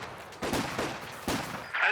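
Submachine gun fire in Company of Heroes 2, Soviet conscript squads with PPSh guns in a 2v2 match: three short loud bursts under battle ambience, with a brief high whine near the end.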